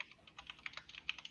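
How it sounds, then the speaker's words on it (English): Mechanical keyboard typing at a fairly quiet level, an irregular run of sharp, close clicks and clacks from keystrokes with no talking over them. "It's a mechanical keyboard."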